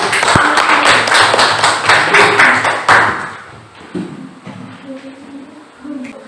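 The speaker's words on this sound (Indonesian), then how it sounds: "Tepuk tangan dulu untuk Abil." Classroom of students clapping their hands for a classmate, a loud close burst of rapid claps for about three seconds that stops abruptly, followed by quieter shuffling and a teacher speaking.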